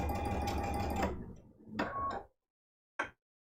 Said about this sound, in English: I just have my machine that's set on a straight stitch.